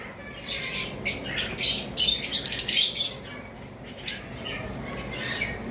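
Creamino opaline red-eye pet bird squawking in short, harsh bursts. Rapid calls cluster in the first half, then fall off to a few scattered squawks over a steady background hiss. The bird is close and loud.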